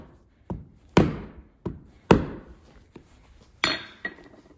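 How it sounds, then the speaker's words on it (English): A hammer strikes a horseshoe spreader against an anvil in several sharp metallic blows at an irregular pace, some louder with ringing tails, a few lighter taps between, close and clear with no talk. "And if we use hammer and anvil, we can even make that more obvious."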